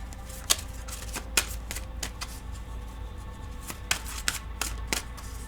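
Tarot cards are shuffled in steady bursts, a series of crisp riffling ruffles repeating every second or so, close and moderately quiet over a low background hum.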